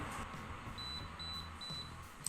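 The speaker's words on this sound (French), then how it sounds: "vous avez les petits bip bip pour vous dire que c'est bon" A series of short, faint, high-pitched electronic beeps from an Aigostar smart electric kettle signalling it is ready, about three in an even rhythm over a quiet background hum.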